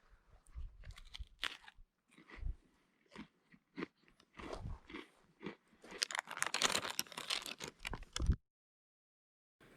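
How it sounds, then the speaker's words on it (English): A large oatmeal cookie is bitten and chewed in close, crisp crunches, then crumbled into a berry cobbler pouch with a dense rustling, crinkly burst before the sound cuts to silence. "There's a large oatmeal cookie that Sidorovitch eats part of before crumbling the rest into a warm pouch of berry cobbler."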